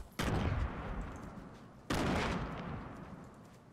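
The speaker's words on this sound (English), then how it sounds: "someone else is shooting at him, I think" Two loud gunshot blasts ring out in a Fortnite Battle Royale match, about a second and a half apart. Each hits sharply and then trails off in a long, fading echo.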